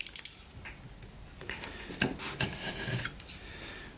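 A cutter knife with SKH2 blades trims the corners of a homemade vehicle lifting block, making soft, close scraping and rasping strokes that start with a few quick ticks and continue as irregular rubbing cuts.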